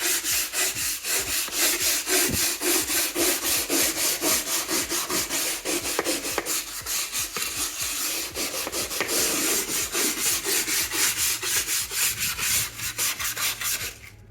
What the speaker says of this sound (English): I have a little Liebman hand scrubber